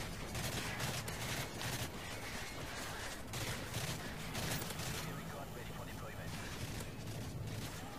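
Rapid gunfire from a gun with iron sights during a Resistance map match of the video game Modern Warfare 3, dense bursts of shots running continuously over game noise with a voice talking throughout.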